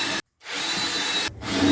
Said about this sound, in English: So I'm going to pilot hole 2 more, countersink, and put 2 more in.